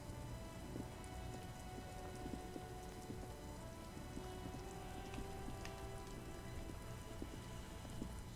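Steady, soft rainfall in the video game Disco Elysium hisses evenly throughout, faint and continuous with a light patter of drops.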